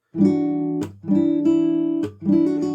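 Acoustic guitar chords ring out in a steady repeating pattern, three strummed phrases with short muted breaks between them, close and clear.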